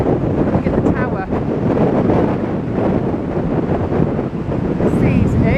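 Strong gusting wind buffets the microphone on Blackpool promenade beside an incoming November sea, a loud, continuous low roar with crashing waves underneath and brief faint voice fragments.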